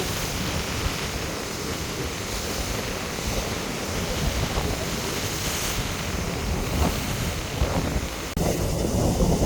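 A storm off Jaffna drives strong wind and rough sea waves, continuous roaring surf and gusts buffeting the microphone, loud and steady with surges throughout.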